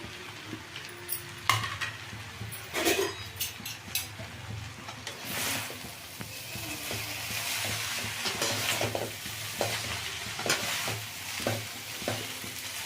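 Fried egg is tipped into a pan of frying egg noodles and stirred over high heat, producing a continuous sizzle broken by repeated scraping and tossing strokes of a utensil against the pan, with no talking.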